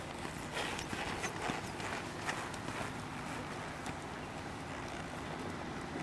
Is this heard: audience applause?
no